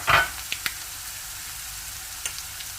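Asafoetida and crushed garlic frying in a pan, a steady soft sizzle with a loud burst at the start and a few brief crackles and pops afterward.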